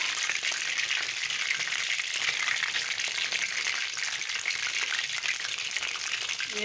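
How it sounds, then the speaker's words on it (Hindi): Dal mash koftas, lentil dumplings, frying in hot oil, giving a dense, steady crackling sizzle close by that keeps the same level throughout. "जब ऑयल गरम हो जाएगा तो फिर ये कोफ्ते उसमें फ्राई होने के लिए डाल देंगे।"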